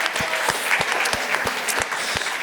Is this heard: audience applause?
yes